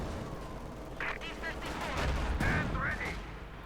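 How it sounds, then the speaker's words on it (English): Building collapse and explosion in Company of Heroes 2, a dense rumbling crash with scattered gunfire bursts layered over continuous battle noise, building louder toward the middle. "Building collapse and the ensuing explosion as well."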